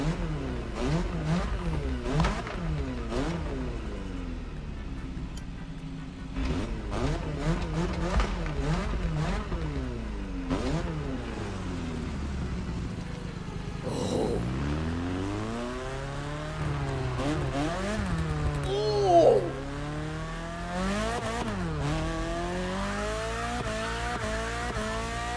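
A new BMW at Motorfest revs hard, its engine note climbing and falling in repeated sweeping bursts, loud and close, with a brief louder peak near the end and no talk over it.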